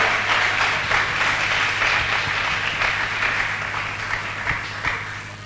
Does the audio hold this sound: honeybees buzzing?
no